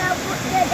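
Strong river current rushes steadily at a Jamaican nature river, a broad, close water noise with faint voices mixed in.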